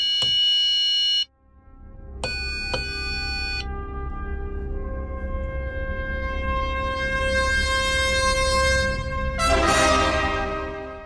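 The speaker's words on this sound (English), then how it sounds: "And now we should find the buzzer works just as before." A buzzer on an electronic game circuit board sounds a long run of steady electronic tones, with bright harmonic chirps near the start and a rising burst near the end. No one speaks.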